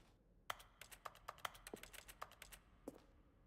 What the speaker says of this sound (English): A section of the sounds used throughout the game when buttons are pressed. Each sound is a mix of keyboard stroke and synthesized tone.